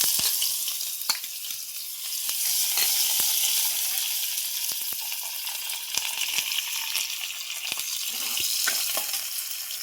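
Curry leaves crackle and sizzle in hot oil in a kadai, a continuous loud frying hiss peppered with small pops and occasional utensil taps.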